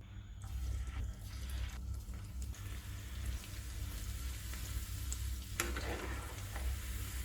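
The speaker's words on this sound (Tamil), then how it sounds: "முந்திரி பருப்பு, எண்ணெய் காஞ்சிருச்சு. ஒவ்வொன்றா பொரிச்சிடலாம்." Cashew nuts fry in hot oil with a steady, dense sizzle, dotted with small crackles and a brief sharper spit near the end. The cooking continues alone without any talk.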